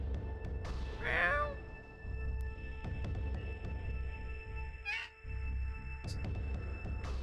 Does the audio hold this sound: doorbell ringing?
no